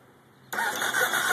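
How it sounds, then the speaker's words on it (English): A 2009 Star Midnight Warrior motorcycle with Vance and Hines pipes and a Big City baffle fires on a cold start, jumping from near silence into a loud, rough idle up close. "Just start it up so you guys know the difference between the Big City baffle and the standard Vance and Hines baffle."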